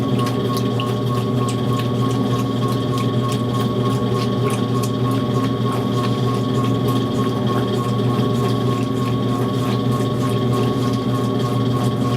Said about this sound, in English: The agitator is trying to pull that jacket under